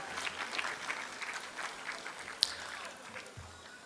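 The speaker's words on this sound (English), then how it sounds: "clap the musicians and clap the singers" Faint, scattered clapping from a graduation audience for the musicians and singers at a high school ceremony, soft and steady for several seconds without a clear peak.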